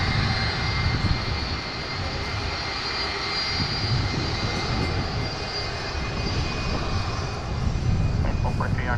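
An airliner takes off at one of the world's busiest airports, its engines making a loud, steady roar through the whole stretch, with faint voices underneath.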